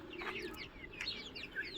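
Native chickens cluck in short, uneven bursts at close range, with no talk over them.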